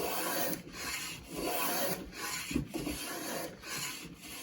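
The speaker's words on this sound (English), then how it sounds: "There you're getting full width shavings." A shoulder plane pushed along a wood board cutting a rabbet and lifting full-width shavings, a continuous rough rubbing rasp broken by short regular gaps between strokes, close up and moderately quiet.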